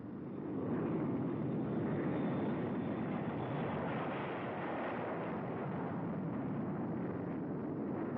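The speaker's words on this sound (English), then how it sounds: "drone jets, pilotless, crewless, at super speed flown up into the night sky" Pilotless drone jet aircraft flying at high speed in 1951 nuclear test footage, a steady loud roar holding for about eight seconds with no talk over it.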